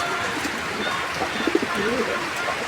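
Soft, repeated cooing of Shadel Siraji pigeons close by, low throaty calls rising over a steady background hum, with no clear speech.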